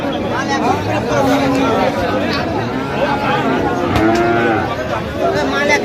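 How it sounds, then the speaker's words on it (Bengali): A Sahiwal bull calf moos repeatedly at a livestock market, its lowing calls rising over steady crowd chatter and nearby voices of buyers and sellers. "শাহিওয়ালের ষাঁড় বাচ্চা।"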